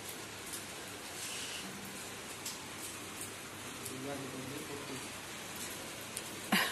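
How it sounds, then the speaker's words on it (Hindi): Steady rain falling outdoors around a rooftop where people sit having tea and pakoras, a soft continuous hiss with occasional louder drops, and a voice speaking over it near the end. "बारिश आने लग रही है"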